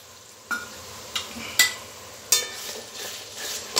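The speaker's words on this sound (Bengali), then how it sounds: "এই টক দইটা পুরোটাই আমি মেখে দিয়ে দিলাম।" Chicken being mixed with yogurt for biryani, wet stirring and squelching with a few sharp clinks of a utensil against the bowl, close and alone.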